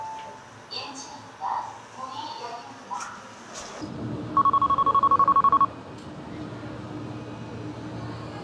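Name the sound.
phone ringing with an incoming call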